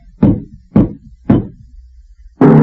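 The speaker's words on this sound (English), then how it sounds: "suddenly there was a knock on the door" Three firm, evenly spaced knocks on a wooden door sound close and loud in a radio drama, followed by a sharp louder thud.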